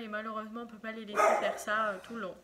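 A French bulldog gives several close, loud barks and yips in quick succession while someone speaks French over them.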